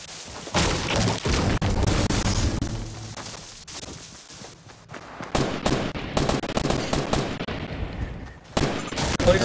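Gunfire in the video game Fortnite crackles in rapid bursts and single sharp shots, some heavy booms among them, loud and repeated across the span with brief lulls and no speech.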